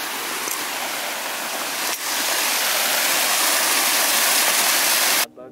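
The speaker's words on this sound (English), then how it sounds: "we're kind of stopping here to get some really good footage because there's like a waterfall here" Steady, loud roar of a waterfall on a mountain hiking trail in Washington, a continuous broadband rush of falling water filling the whole span before cutting off abruptly near the end.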